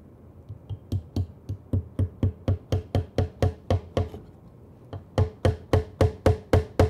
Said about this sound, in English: I'm tacking this on the inside of the back leg.